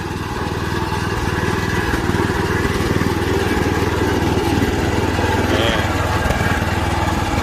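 A small tracked dump carrier with a Mitsubishi 7 hp four-stroke petrol engine runs steadily while reversing, a close, continuous buzzing engine drone with a fast rhythmic beat throughout.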